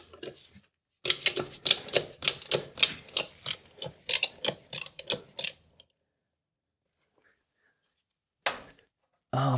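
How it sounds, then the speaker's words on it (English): A bottle jack is pumped under a vehicle axle, giving a quick run of sharp mechanical clicks in a steady rhythm. The clicks stop into near silence, then one more click and a final noise follow. "I'm just going to lift up with the bottle jack on that side of the axle"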